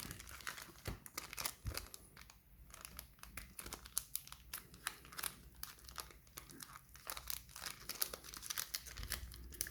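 Dragon Ball Super card game booster pack from the 2020 Anniversary set being torn and crinkled open, a steady run of close crackling foil-wrapper rustles and tears throughout with no talking.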